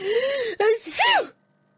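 A single voiced sneeze, apparently acted out by a voice imitating it, with a rising breathy build-up, a brief catch, then a sharp burst that ends abruptly into silence. It is close and fairly loud, while someone is feeling unwell with a cold.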